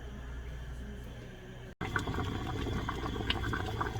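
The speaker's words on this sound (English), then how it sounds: "Okay, it's boiling." Water rolling at a boil in a pot holding corn cobs for jelly, a steady dense bubbling and hiss that runs throughout, with a brief dropout partway through.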